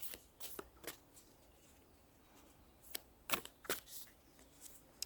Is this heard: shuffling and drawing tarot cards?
yes